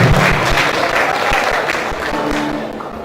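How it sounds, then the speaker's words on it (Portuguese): A church congregation at a family worship service breaks into a steady round of applause, dense clapping filling the room and slowly tapering off. "eu quero que você dê uma salva de palmas ao Senhor por tudo isso"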